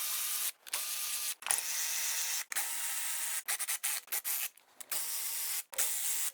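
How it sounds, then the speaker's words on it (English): Ratchet driving crossmember bushing bolts on a 1978 Silver Anniversary Corvette, a steady close clicking whir in sustained runs broken by short pauses and quick bursts of strokes. "let me go get a ratchet"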